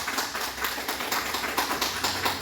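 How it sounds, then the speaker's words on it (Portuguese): A church congregation applauding Jesus during a Portuguese-language Bible lesson: dense, steady clapping from many hands, fairly close and continuous, with no speech over it. "vamos aplaudir a Jesus"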